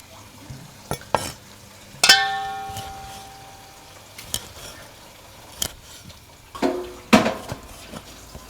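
Food being dry-roasted in a pan while a metal utensil stirs it: a handful of sharp, ringing clanks spaced irregularly, with soft scraping and faint sizzle between them and no talk.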